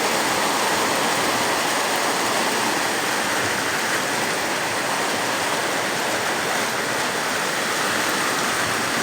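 Floodwater from a typhoon rushes in a steady, loud, unbroken roar like a waterfall or stream, close by and filling the whole scene with broadband wash and no voices.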